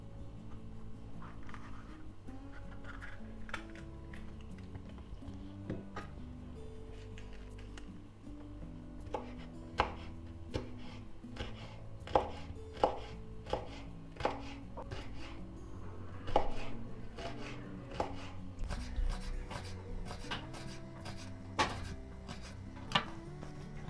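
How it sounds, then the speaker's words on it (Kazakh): A knife chopping bell pepper on a cutting board for a light summer salad, a run of crisp, irregular taps that grow busier and sharper toward the end, heard alone and close up. "Ендігі кезекте болгар бұрышын тураймыз."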